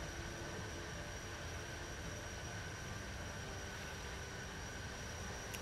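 A train rolls past in the video game Just Cause 3 as a continuous, even rumble with faint high whine, steady in level throughout and with no voices.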